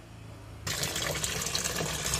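Water gushes steadily into a washing machine drum during a leak test after a drain-line repair, starting abruptly and running as a loud, continuous splashing fill with no talk.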